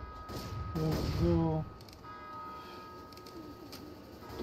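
Church bell in the Left 4 Dead zombie video game ringing with tonal, ringing strikes among game noise, fairly loud at first and then fading under the background din.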